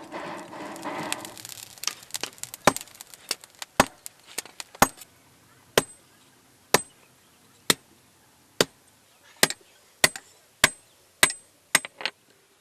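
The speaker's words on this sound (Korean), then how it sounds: "고철 파이프를 망치로 두드리고 벌겋게 달고 목걸이를 만들기 시작한 지 4시간여" A blacksmith in a village forge beats a scrap metal pipe with a hammer, sharp ringing strikes at first dense and irregular, then spaced evenly about once a second, clear and close.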